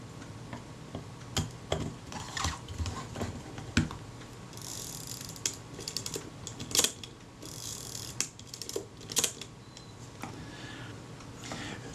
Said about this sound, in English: I can put the shutter back in place.